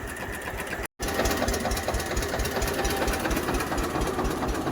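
A tractor engine runs at a steady, close chug with a fast, even pulsing beat that holds throughout, broken only by a split-second gap early on.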